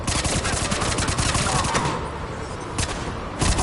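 Enemy automatic gunfire in the video game Mass Effect 3, rapid loud bursts of shots rattling in quick succession, briefly easing before more bursts resume.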